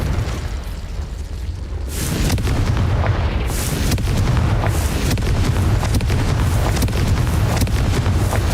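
The Confringo explosive spell in Hogwarts Legacy erupts in a loud, sustained blast, a sudden boom that rolls into a dense roaring rumble with scattered crackling bursts.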